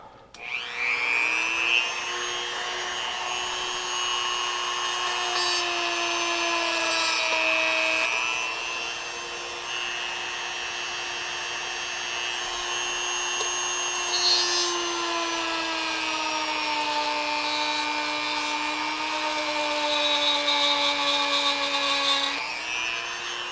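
A power drill bores into a Hot Wheels Redline Hot Heap die-cast car's axle, a steady, loud whining motor drone with a slight pitch sag midway, running continuously for over twenty seconds, close up and without speech.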